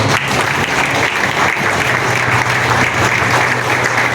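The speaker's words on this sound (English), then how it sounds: "Please have a round of applause for all the awards." Audience applause at a college long service awards ceremony, continuous dense clapping filling a hall, loud and even throughout without speech.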